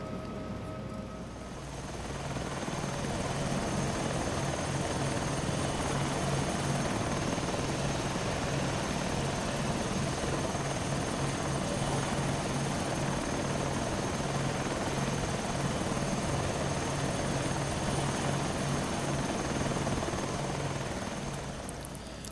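Steady, loud rotor and turbine drone of an SH-2 SeaSprite helicopter in Flight Simulator X, holding constant throughout as the aircraft comes in, with no talk over it.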